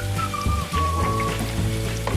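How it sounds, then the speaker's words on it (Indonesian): Tofu frying in oil gives a continuous crackling sizzle, loud and close, with faint tonal kitchen sounds underneath and no talking. "Terus kita goreng tahunya sampai habis."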